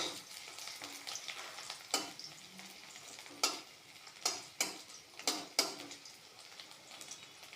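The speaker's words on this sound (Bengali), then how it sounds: "রসুনগুলো তেলের মধ্যে দিয়ে দেবো। রসুনগুলো ভাজবো" Garlic frying in oil, a quiet steady sizzle with a handful of sharp metallic scrapes and clinks from a utensil stirring in the pan, spaced irregularly, with no voices present.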